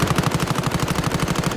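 Rapid automatic gunfire in Call of Duty: Warzone, a close, loud, evenly spaced burst of about twenty shots in under two seconds.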